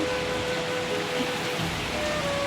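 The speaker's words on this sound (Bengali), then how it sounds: "প্রতিদিন এই টাইম হচ্ছে আর বৃষ্টি শুরু হয়ে যাচ্ছে" Steady rain patters in an even, continuous wash of noise, heard from nearby without any voices.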